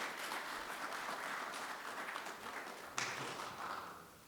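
Audience applause at a NatCon 2022 breakout session, a steady wash of many hands clapping at moderate distance for several seconds, with a brief louder swell partway through.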